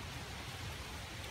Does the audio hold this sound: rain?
yes